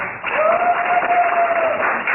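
Audience applause at a Pyeongtaek peace seminar follows a keynote lecture, an even, sustained wash of clapping from a crowded hall with a faint steady tone underneath.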